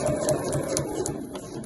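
A domestic sewing machine stitches the bound edge of a fabric placemat, giving a short, close, steady mechanical whirr with a rapid even pulse and no voices.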